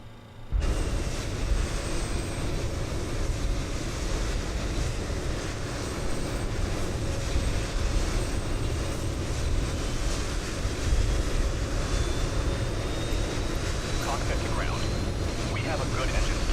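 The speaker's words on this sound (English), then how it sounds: "Okay, engine 3 should be on." An Avro RJ85 jet engine runs in Microsoft Flight Simulator 2020, a loud, steady broadband roar with a thin high whine that holds constant throughout, with muffled talking at times over it.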